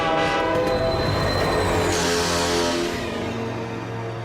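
A cartoon train blares a sustained, loud horn as it rolls in, rumbling and clattering closely beneath, the horn pitch sliding as it passes.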